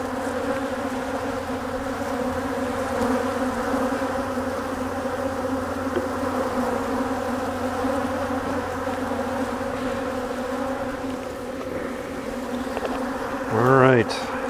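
Honeybees swarm around an open, crowded hive during a spring brood box inspection, filling the air with a steady, close, droning hum that stays constant throughout.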